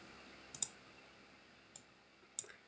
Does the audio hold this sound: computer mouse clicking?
yes